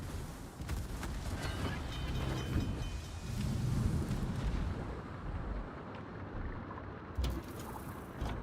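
Warship guns in the video game World of Warships fire and boom repeatedly, heavy rumbling blasts and a dense roar filling the background without pause.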